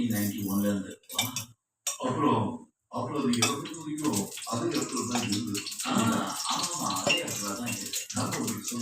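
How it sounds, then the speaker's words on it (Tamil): Oil poured onto a heated tawa for an onion fish fry gives a loud, close, steady rushing sizzle, broken by a few brief gaps early on. "தவா நல்லா காஞ்சிடுச்சு. எண்ணெய் ஊற்றிக்கலாம்."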